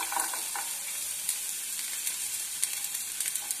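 Garlic sautés in hot oil in a pan for an anchovy fish curry, a steady bright sizzle with faint crackles and small pops throughout, close and continuous.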